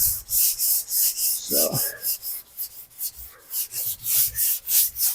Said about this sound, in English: Let the block and the sandpaper do its work.